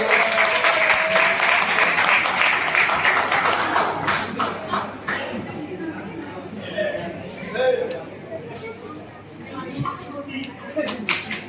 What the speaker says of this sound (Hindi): शिवानी के लिए जोरदार तालियां